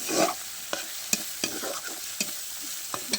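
Fish frying in a pan with cauliflower for a light, low-spice fish curry: a steady close sizzle broken by sharp scraping and clinking stirs every half second or so, with no talking.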